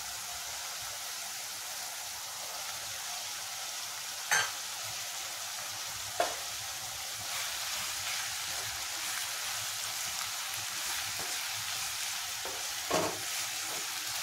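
Onions and tomatoes frying in a pan for a prawn curry, a continuous even sizzle with occasional sharp stirring clacks of a utensil, no voices.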